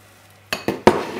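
A spoon stirs rice and Parmesan cheese in a baking dish for chicken risotto, making four quick, close scraping clinks against the dish after a short quiet start.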